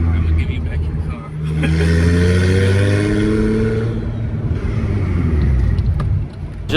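A single-turbo BMW 335i making about 700 wheel horsepower roars past on the road. Its engine note climbs and holds strong, then fades away, and the sound stays loud from start to finish.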